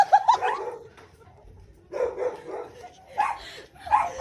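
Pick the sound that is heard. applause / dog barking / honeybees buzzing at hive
dog barking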